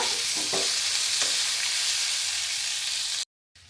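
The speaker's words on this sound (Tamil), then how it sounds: "போட்டுட்டு இதையும் நல்லா மிக்ஸ் பண்ணி கொடுங்க இதோட" Bitter gourd with torn red chillies is stirred in a hot pan, giving a loud continuous sizzle with a couple of soft spatula scrapes before the sound cuts off abruptly near the end.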